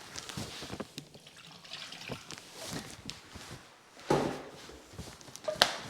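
Cold water runs from a tap while casings soak for making Käsekrainer sausages, a steady splashing trickle broken by a few clatters and knocks nearby.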